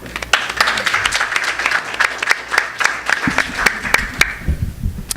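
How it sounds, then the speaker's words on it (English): An audience at a food justice event applauds a university student as he is introduced, with steady clapping throughout that grows sparser and thinner near the end. "Please give a round of applause for Miguel."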